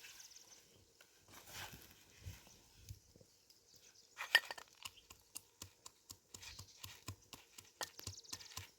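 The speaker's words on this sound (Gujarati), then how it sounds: "આપણે લસણને ખાંડી નાખીએ" Garlic is pounded in a mortar as irregular, sharp knocks, sparse at first and then coming in a steadier rhythm, close and fairly quiet, with faint clinks and no talking.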